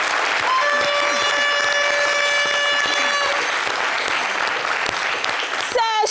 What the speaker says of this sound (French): on applaudit pour la Côte d'Ivoire